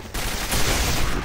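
A short burst of rapid gunfire from the video game Quake 4, dense and loud, rattling continuously for about a second.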